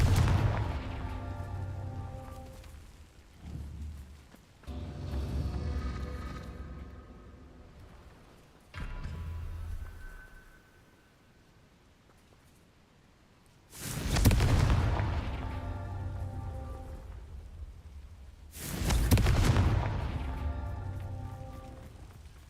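Confringo fire spell explosions in the video game Hogwarts Legacy, several deep booming blasts at irregular intervals with rumbling tails, two of them especially loud and sharp, alone without talking.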